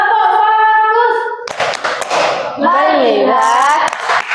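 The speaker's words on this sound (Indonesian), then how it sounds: "kita tepuk fokus ya. Tepuk fokus." Schoolchildren in a classroom perform a rhythmic focus clap, a burst of sharp hand claps in patterned beats following a sung or called prompt, with voices chanting before and after the clapping.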